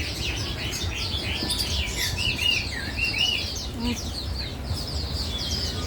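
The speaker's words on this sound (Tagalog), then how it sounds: "daming ibon oh dami ano nilang panindang ibon" Many small birds for sale chirp and tweet together in a dense, continuous chorus, with faint voices and market bustle underneath.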